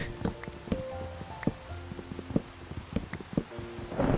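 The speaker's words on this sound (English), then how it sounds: "Oh, there's a thunderstorm." Thunderstorm rain in the video game Minecraft, a soft continuous patter of rainfall mixed with recurring muted tonal game sounds and clicks, fairly faint and without speech.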